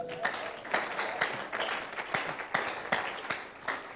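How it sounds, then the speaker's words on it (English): A church congregation claps in uneven bursts of applause, moderately loud and fairly close, with no one speaking. "Give the Lord a clap offering."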